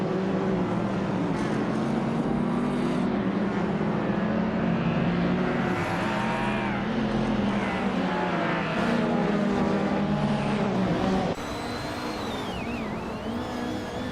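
Race cars in a racing video game run wheel to wheel in a midfield pack, a continuous loud droning engine roar with shifting pitch sweeps as cars rev, steady throughout and briefly dropping in level near the end.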